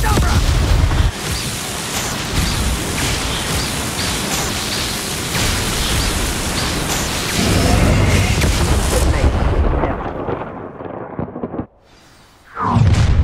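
A Confringo fire spell explodes in Hogwarts Legacy, a loud, sustained fiery roar with deep booming rumble that runs for several seconds, then cuts off and flares briefly again near the end.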